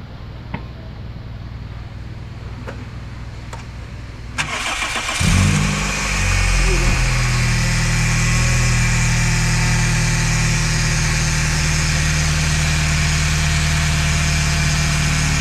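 A Toyota Corolla 1.6 with a leaking distributor oil seal and transmission fixed in a workshop: a few faint clicks, then the engine cranks and catches, settling into a loud, steady idle that runs on without talk.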